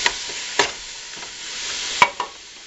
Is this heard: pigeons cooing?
no